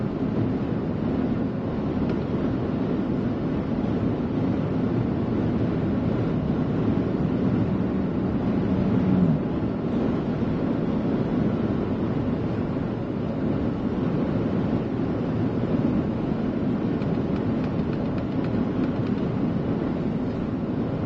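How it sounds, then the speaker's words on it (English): Strong wind buffets a storm chaser out on open plains during severe weather, a constant low rumbling roar with gusts pressing against the microphone, steady and loud without any voices. "It's so windy out though."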